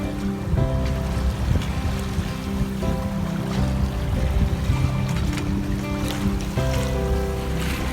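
Strong wind and choppy waves wash around a small sailboat on Lake Ontario, a constant blustery rush over the hull with splashing water throughout and no voices.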